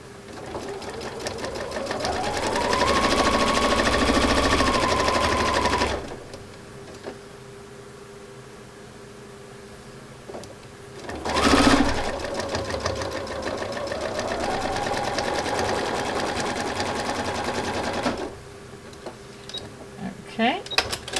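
A sewing machine stitches pinned quilt pieces in two loud, sustained runs separated by a quiet pause and a brief clatter, its motor pitch rising as it speeds up.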